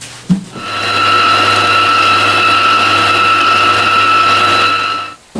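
An electric mixer beats cookie dough after an egg and vanilla extract are added. Its loud, steady motor whine starts after a brief clatter, runs evenly for about four seconds, and then cuts off.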